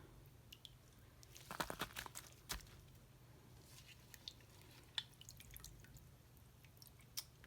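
Thawed worm food being squeezed by hand, wet squelching and drips in quick irregular bursts, faint and close in a quiet room.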